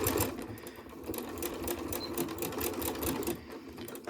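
A sewing machine runs continuously, stitching the boxed corner of a cross-stitch-fabric tote bag with a rapid, even mechanical whir and clatter, close by and heard without speech.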